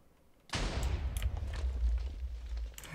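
A heavy video-game cannon boom erupts and rolls into a sustained low rumble, with scattered sharp pops and crackles layered over it.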